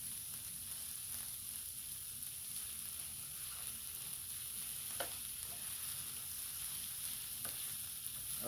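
Philly cheesesteak meat frying and sizzling in a pan while being stirred, a steady close hiss with occasional scrape clicks from the utensil, no talking.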